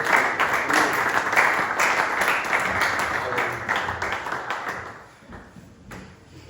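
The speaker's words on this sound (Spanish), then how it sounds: "Damos un aplauso a la palabra bendita de Dios." A church congregation at a Spanish-language Bible study applauds together in a dense, steady burst of clapping that fades toward the end.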